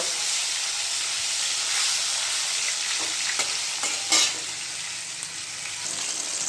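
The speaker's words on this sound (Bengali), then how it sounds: "এবারে আমি মাছ ছেড়ে দিচ্ছি তেলে। মাছগুলোকে আমি ভেজে নেব।" Chitol fish pieces sizzle loudly in hot oil, a dense, constant hiss with occasional louder crackling bursts and spatters.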